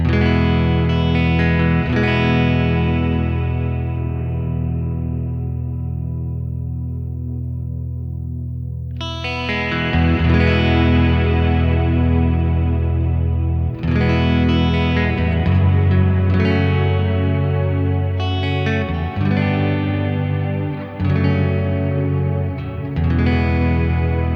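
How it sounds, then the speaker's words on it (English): Clean electric guitar chords played through a Strymon Cloudburst ambient reverb pedal, with lush shimmering washes and long decaying tails; strummed chords ring out, fade, then are struck again in several phrases, close and steady with no talking. "Let's see if the Cloudburst by Strymon can do better."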